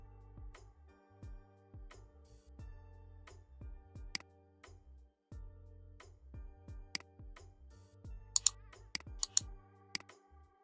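Rapid clicks of typing on a computer keyboard, close and crisp, come in irregular bursts with short pauses over steady background music.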